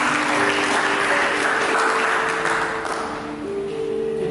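Congregation applause at a church sermon, a steady wash of many hands clapping that holds loud and dense throughout, easing slightly toward the end with a faint sustained tone underneath.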